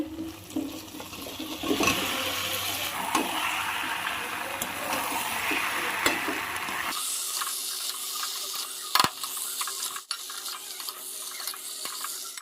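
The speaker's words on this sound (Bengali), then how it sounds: "এখন আমি ভেজে রাখা চিংড়ি মাছ আলু এঁচড়টা দিয়ে দেব।" Fried shrimp, potato and jackfruit go into a pan of spiced masala, making a steady sizzling and stirring hiss that drops sharply quieter about halfway through, with a few scraping clinks later.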